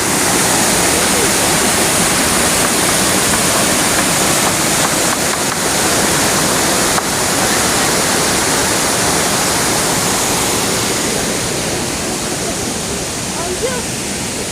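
Oylat waterfall in Turkey pours in a dense, loud, unbroken roar of falling water heard close up, with faint voices barely audible under the rush.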